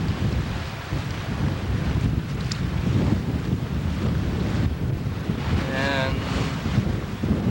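Sailing under steady wind on Lake Huron: gusts buffet the microphone over a constant wash of waves against the hull. A faint brief chirp cuts through near the end.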